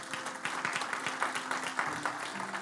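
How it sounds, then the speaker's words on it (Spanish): Steady applause from a church congregation, continuous and moderately loud, with a faint tonal hum underneath. "Denle ese aplauso fuerte a Cristo"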